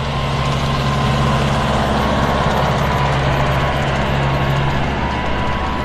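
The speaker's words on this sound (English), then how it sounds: "here comes our tractor sneaking up behind me" Beach cleaning tractor engine on Vanderbilt Beach in North Naples, Florida, a steady low rumble that holds at a constant level throughout with no clear build, over a broad wash of surf and wind.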